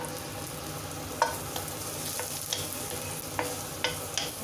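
Ginger sautéing in a hot pan for a Chinese-style steamed whole chicken dish: steady sizzling frying with several light spatula taps and scrapes spaced through it, no voices.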